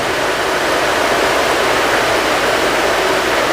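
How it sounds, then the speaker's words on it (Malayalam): Heavy rain pours down in Kerala as a dense, steady, loud roar of broadband hiss that stays unchanged and uninterrupted, with no voices heard. "ഭയങ്കര മഴ, നല്ല മഴയാണ്, ഗംഭീര മഴ, രക്ഷയില്ല."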